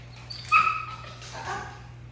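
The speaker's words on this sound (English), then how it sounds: "I'm just going to ignore those dogs barking in the background." Dogs bark and yip in the background, a couple of sharp high barks followed by fainter whimpering yelps over a steady low hum, with no talking.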